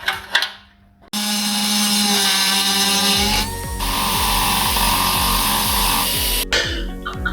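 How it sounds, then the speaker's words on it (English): An angle grinder or similar power tool cuts out a rotted, welded M6 nut on a Ford RS200 rebuild, a steady loud abrasive whine lasting several seconds with a rougher rhythmic rasp in its second half. "let's grind that out and put a new one in."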